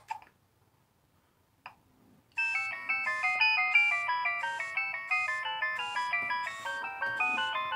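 After a couple of soft clicks, a bright electronic ringtone melody from a 2003 Nokia 3100 mobile phone starts and repeats its tinkling pattern steadily, fairly quiet and alone.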